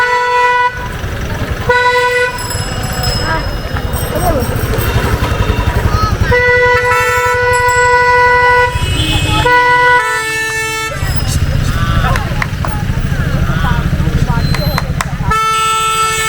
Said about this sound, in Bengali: রাস্তায় ট্রাফিক জ্যাম করে ছেড়ে দিয়েছে।